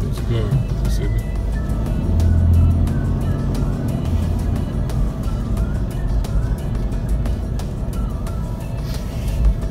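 A car passes by on a street in a new-home subdivision, a moderate road rumble swelling and fading while people talk throughout.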